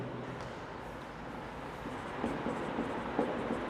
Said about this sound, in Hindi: तो इसको भी हम साइड में लिख लेते हैं